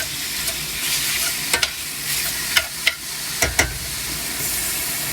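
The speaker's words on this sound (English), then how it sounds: "I am putting the chicken in the pan so we can get it sizzling" Chicken browning in a hot pan for a cheesy chicken bake, giving a steady close sizzle and hiss with a few sharp pops and spatters of fat, no voices.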